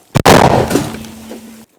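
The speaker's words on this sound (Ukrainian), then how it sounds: "Постріл!" A D-30 howitzer fires one heavy, sharp blast close by, followed by a rumbling echo that rolls and fades over about a second before cutting off.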